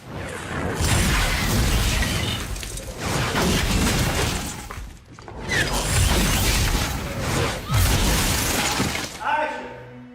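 Two loud, rumbling film-set explosion bursts inside a small cave set roar and crackle with debris, each lasting several seconds, echoing in the enclosed space.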